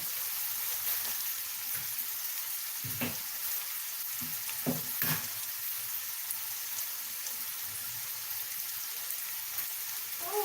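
Onions frying in a pan give off a loud, dense, continuous sizzle close by, with a few muffled knocks and stirring bumps mixed in and faint background voices.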